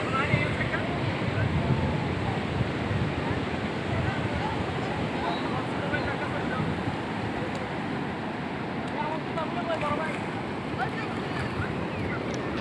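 Rough sea waves at Cox's Bazar beach wash and crash steadily close by, a broad continuous surf roar mixed with gusting wind against the microphone, with someone talking over it.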